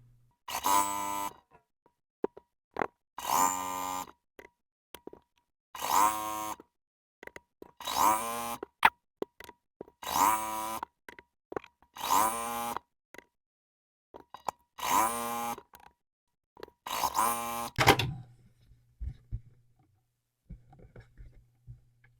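A sewing machine chain piecing quilt block fabric, running in about eight short, regular bursts of stitching separated by brief pauses, fairly close, with faint handling noise between and a low hum at the end.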